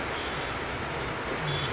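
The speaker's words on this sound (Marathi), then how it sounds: "पुन्हा एकदा पावसाने चांगला जोर धरलेला आहे" Heavy monsoon rain pours down in a steady, dense hiss with no voices.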